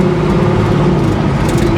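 1971 Chevy Nova driving on rough roads, its engine a steady loud rumble with road noise; no distinct rattle stands out and no one talks.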